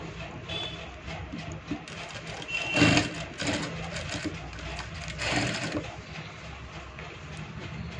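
A sewing machine stitches a shirt collar, giving a steady, close mechanical whir with a couple of louder surges, while a voice talks quietly in the background.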